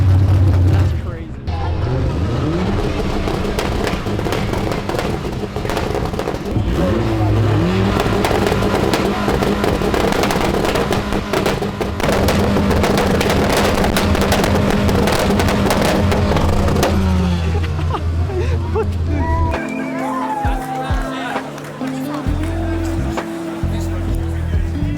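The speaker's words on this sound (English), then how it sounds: "These guys are having their exhaust battle right now." Cars revving loud exhausts against each other in an exhaust battle at a night car meet, a sustained heavy engine roar with rising and falling revs, close and loud, with people talking and shouting over it.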